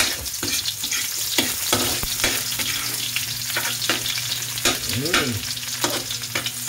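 Onions frying in a pan for Bicol Express sizzle loudly and steadily up close, broken by repeated scrapes and clinks of stirring.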